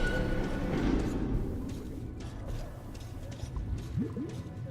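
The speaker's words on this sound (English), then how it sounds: "Sounds like the bubbling of toxic fumes" Low, murky bubbling and squelching from toxic fumes in a flooded area of Metro Last Light Redux, a continuous wet churn with a few brief gurgling pops near the end.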